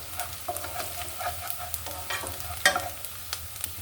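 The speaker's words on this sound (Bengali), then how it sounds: "পেঁয়াজ ভাজনাটা আমার হয়ে গেছে" Onions fry in a pan with a close, steady sizzle broken by repeated sharp scrapes and knocks of a utensil stirring, including one louder clack, with no voices.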